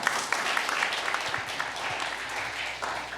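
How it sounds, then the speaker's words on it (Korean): Applause from a church seminar audience of rural mission pastors, a dense steady patter of many hands clapping at moderate level, with faint voices mixed underneath. "이분들의 박수 한번 칩시다."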